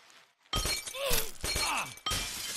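Loud glass shattering in the video game Happy Wheels, repeated crashing breaks with scattering shards, one after another.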